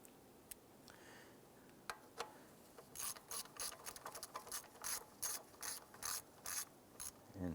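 Hand ratchet tightening a bolt on the intake VVT solenoid of a 2012-2017 Toyota Camry: a few isolated clicks, then a quick run of rapid, close ratcheting clicks in short bursts, quiet and without talk.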